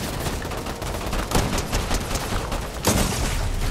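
Dense gunfire crackles throughout a Fortnite match, rapid overlapping shots with a couple of louder sharp bursts standing out over a continuous noisy battle din, with no talking.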